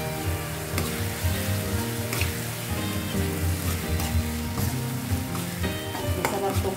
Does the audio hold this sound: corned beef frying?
yes